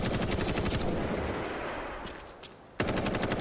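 Rapid automatic gunfire in a zombie survival video game with crafting, loot and PvP, loud bursts of repeated shots, a short pause, then firing resumes abruptly.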